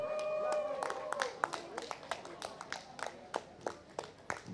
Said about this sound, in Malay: Tempat kedua berikan tepukan kepada Kaim Razin